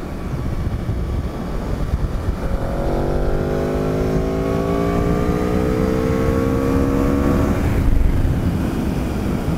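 A 2018 Aprilia RSV4RR motorcycle pulls hard in fourth gear on a first ride, its engine note climbing steadily in pitch for several seconds before easing off, loud and close over constant wind rush.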